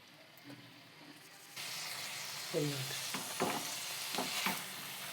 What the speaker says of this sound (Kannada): ಈಗ ಟೊಮೆಟೊ ಕೂಡ ಎಣ್ಣೆಯಲ್ಲಿ ಫ್ರೈ ಮಾಡ್ತೀನಿ.